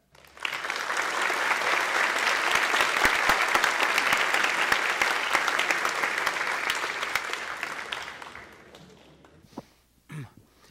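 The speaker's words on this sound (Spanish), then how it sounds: "Quisiera pedirle un fuerte aplauso para recibir a Richard Stallman." Warm audience applause welcoming Richard Stallman at a 2012 conference in Peru, rising quickly to a full, dense clapping that holds steady and then tapers off, followed by a few scattered taps and a cough.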